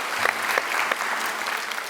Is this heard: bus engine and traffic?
no